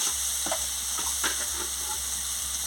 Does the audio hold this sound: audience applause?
no